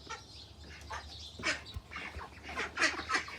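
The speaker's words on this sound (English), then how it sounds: "There are a bunch of hungry ducks on deck." A bunch of hungry young ducks on a farm quack repeatedly in short, uneven bursts, close and fairly clear, with a few chickens nearby.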